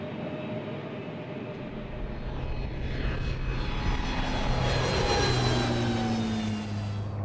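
Propeller engine drone of a Coast Guard surveillance aeroplane flying over the sea near a shipwreck salvage site, rising steadily in loudness as it passes overhead, with no talk.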